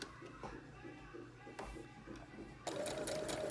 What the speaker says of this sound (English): I'm sure to backstitch to reinforce that pocket won't open up on you.